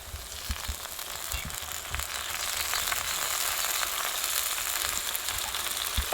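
Green garlic and tomato fry in a pan with a steady, close, hissing sizzle that grows slightly louder, broken by a few low thumps and taps.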